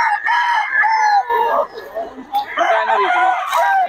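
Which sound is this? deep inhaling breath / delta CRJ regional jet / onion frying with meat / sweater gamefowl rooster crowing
sweater gamefowl rooster crowing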